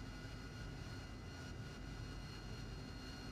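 AV-8B Harrier jet engine roaring at high power for takeoff in the DCS World flight simulator, a dense, steady, loud wash of engine noise with no pauses.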